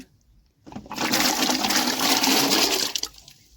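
Water gushing in a steady, loud rush for about two seconds while food is rinsed before cooking, starting abruptly and tailing off with a few splashes.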